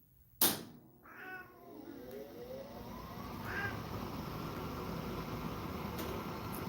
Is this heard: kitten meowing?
yes